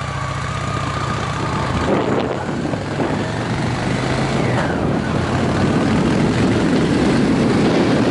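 Honda Shadow VT 750 motorcycle engine pulling away as the rider sets off, a steady mid-loud engine drone with some wind noise, rising slightly in pitch as it moves off, no talk.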